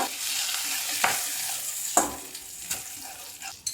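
Whole garam masala and two slit green chillies crackle and sizzle in hot oil, a steady frying hiss broken by a few sharp stirring clinks and scrapes from close by.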